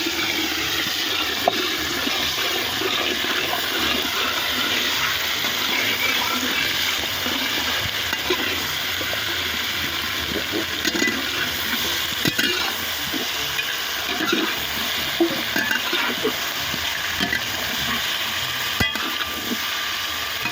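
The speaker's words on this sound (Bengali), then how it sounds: "তেলে ফেলে পেঁয়াজগুলো ভালো করে ভেজে নেব" Onions fry in hot oil for a red chicken curry, giving a loud, steady sizzle that runs without a break. No one speaks over it.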